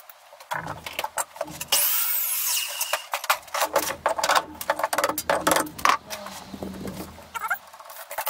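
Recycled pallet wood is cut for a bench, giving bursts of rasping, gritty cutting noise with short pauses between strokes, close and fairly loud.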